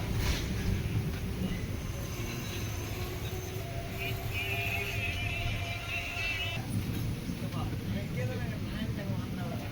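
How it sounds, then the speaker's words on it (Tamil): Palakkad Superfast Express running, a steady loud rumble of wheels and carriage noise heard from on board, continuous throughout with faint squeals and rattles and some voices in the background. "சென்னைக்கு போக இங்கே நிற்கிற ஒரே ட்ரெயின் இவன் மட்டும் தாங்க."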